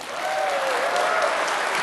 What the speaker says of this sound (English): You'll have to applaud really loudly